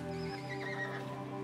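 A horse at a folk horse race neighs in a long, wavering whinny over a steady outdoor background, moderately loud and carried on for the full second and a half.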